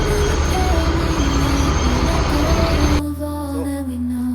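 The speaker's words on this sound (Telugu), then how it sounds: "టాయ్ ట్రైన్ అయితే వస్తుంది, చూపిస్తా" Matheran toy train passing close by with a loud, steady rumble of wheels and carriages that cuts off after about three seconds, leaving quieter tonal mechanical whine and low hum.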